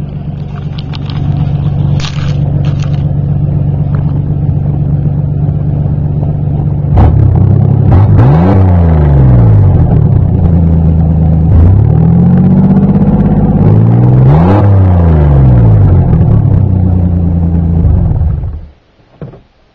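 A Chevrolet Blazer engine idles with a loud, steady low rumble, then is revved twice in long sweeping rises and falls before shutting off abruptly near the end.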